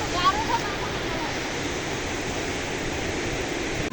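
A river rushing and flowing close by during a fishing trip on the Lore Khola, a loud, continuous roar of water that fills the whole stretch without pause.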